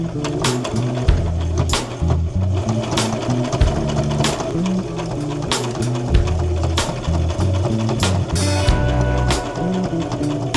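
A sewing machine stitches a hem in a steady, close run of rapid mechanical clatter, with short pauses and restarts throughout; no voices.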